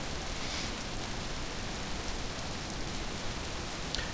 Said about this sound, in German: Norddeutsches Regenwetter, würde ich jetzt mal sagen.